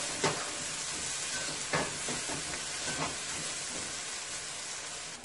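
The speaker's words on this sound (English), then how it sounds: "I have 2 teaspoons of olive oil heating, which I'm going to go ahead and start my spinach" Spinach sizzling in hot olive oil in a pot, a steady close hiss broken by a few soft clattering stirs.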